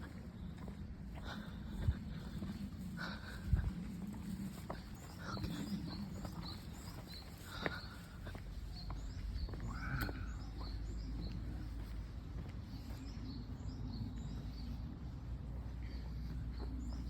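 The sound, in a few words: small birds chirping outdoors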